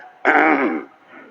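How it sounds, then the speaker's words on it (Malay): A single harsh throat-clearing cough bursts out close by during an Islamic sermon, short and raspy, followed by a faint trailing breath. "Batuk"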